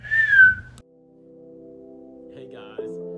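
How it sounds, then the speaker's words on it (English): A short rising-falling whistle opens, followed by a sustained tonal hum that shifts pitch near the end. "give a little whistle."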